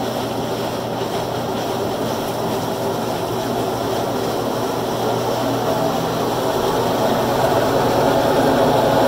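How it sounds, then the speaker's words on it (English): A GE top-load washing machine spins at full speed with its lid open, giving a loud, steady whirring roar that holds evenly and swells slightly toward the end. "it spins, and this is the loudest part of it with the lid open"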